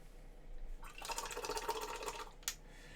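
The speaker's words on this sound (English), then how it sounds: "give the brush a rinse" A paintbrush used for miniature painting is swished in a water pot, making a soft, close burst of sloshing and rattling that lasts about a second, followed by a single small tap, all quite faint.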